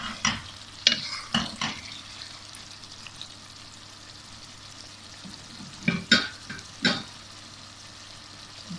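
Capsicum is stirred into peas and carrots frying in a pan for a chicken veg biryani, with a soft sizzle running throughout and a few sharp scraping stirs at the start and again near the end.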